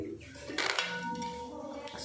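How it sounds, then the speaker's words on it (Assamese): A metal lid set down on a kadai of paneer curry gives a brief clatter and clink, with quiet voices in the kitchen around it. "এতিয়া আমি ঢাকনাখন মাৰি দিম।"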